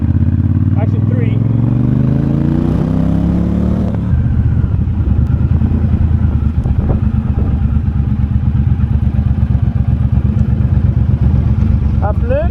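A Triumph motorcycle engine revs up with a rising whine, then settles into a loud, close, throbbing idle that chugs steadily for several seconds.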